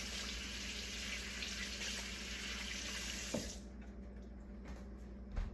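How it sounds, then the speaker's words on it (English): A kitchen tap runs steadily as a fork is rinsed under the stream, a continuous close water rush that cuts off partway, leaving a few faint clinks and drips. "this fork is rinsed, washed, not dried"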